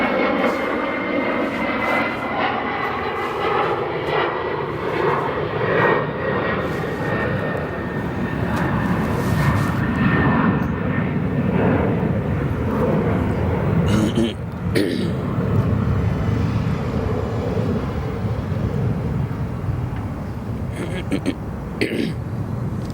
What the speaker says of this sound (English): An Embraer 175 long range.